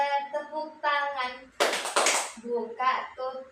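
A short burst of rapid hand clapping, loud and close, between a woman's spoken or sung phrases.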